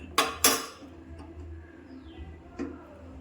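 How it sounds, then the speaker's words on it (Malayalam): Curd being beaten in a metal vessel while a tomato pulissery base cooks: two sharp, close metallic clinks, then a few softer taps spaced apart over low room noise. "ആ സമയത്ത് നമുക്ക് നമ്മുടെ തൈര് ഒന്ന് അടിച്ചുകൊണ്ട് വരാം"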